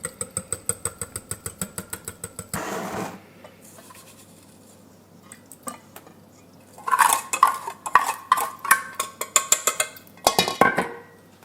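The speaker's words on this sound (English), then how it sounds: "whisk this together real quick" A whisk clatters quickly against a bowl while muffin batter is mixed, a fast run of sharp rhythmic taps, then a pause with faint background, then another burst of scraping and clinking strokes, close up.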